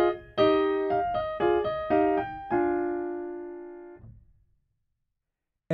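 A string quartet plays a short contrapuntal passage by Haydn: a series of sustained bowed chords changing in a steady rhythm, ending on a long held chord that cuts off, followed by silence.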